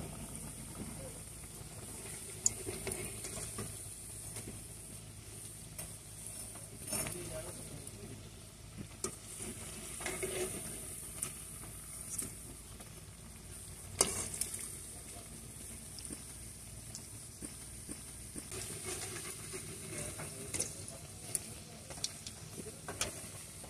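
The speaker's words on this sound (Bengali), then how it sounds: "যতক্ষণ না পকোড়াগুলো মচমচে করে ভাজা হবে ততক্ষণ আমি পকোড়াগুলো ভেজে নেব" Raw potato pakoras deep-frying in hot oil until crisp, a steady low bubbling sizzle with occasional louder pops, close by, with no talking.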